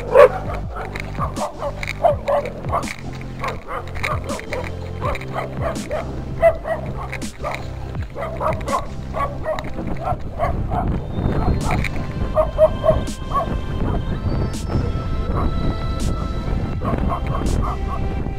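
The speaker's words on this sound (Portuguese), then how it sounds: "Nossa, cachorro." A dog barks and yelps repeatedly at a cyclist riding to work, close and agitated, with whimpering yips amid road and wind noise and a man exclaiming.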